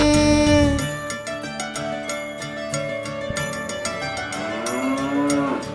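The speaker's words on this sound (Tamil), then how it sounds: "பசுமாடு பசுமாடு என் பசுமாடு" A cow lows in a Tamil children's rhyme: a long, drawn-out moo rising and falling over cheerful background music, fairly loud and close.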